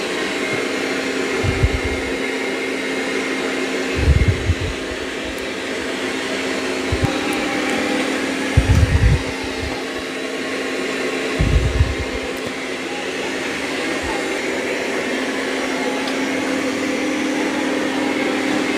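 A Dreame X40 Ultra robot vacuum cleaner runs with a continuous broadband whoosh and a steady hum, punctuated every few seconds by brief low thumps as it moves about.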